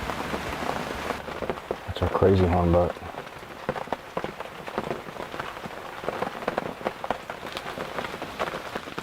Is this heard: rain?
yes